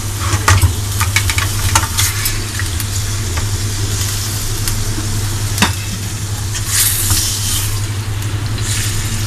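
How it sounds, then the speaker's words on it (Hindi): Chicken fries in a karahi, giving a loud continuous sizzle with occasional scraping and clinking as it is stirred, under a steady low hum from a nearby appliance. "ये फ्राई होने के लिए मैं छोड़ रही हूँ"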